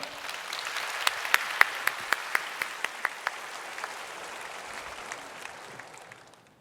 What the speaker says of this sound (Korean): 나오실 때 우리 박수로 맞이해 주시기를 바랍니다